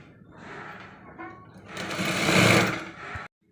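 Sewing machine stitching folded neck piping onto a cross-cut blouse, a steady mechanical whir that builds and peaks mid-way, then stops abruptly, with no talking.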